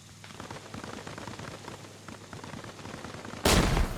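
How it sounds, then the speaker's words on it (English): Battle gunfire from an NPC Battles game, with Marine Raiders assaulting an insurgent outpost, comes as a steady crackle of distant shots. A much louder, harsher burst breaks in near the end. "Seems that he's being shot at from two different angles."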